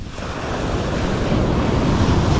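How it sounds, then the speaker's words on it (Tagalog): Heavy ocean surf crashes and roars close by on the beach at Dingalan, Philippines, with constant wind buffeting the microphone. "Grabe, lakas ng alon."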